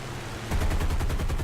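Spitfire machine guns firing in the War Thunder flight game, a short rapid burst of evenly spaced shots bursting in after a quiet half second of engine drone, loud and close.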